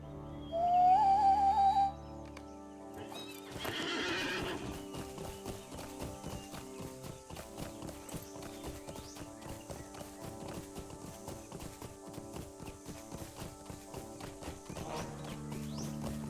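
Hooves of a ridden horse clip-clop in a steady, even rhythm in Lord of the Rings Online, a fantasy game. They run under the game's musical background, with a brief louder tone at the start.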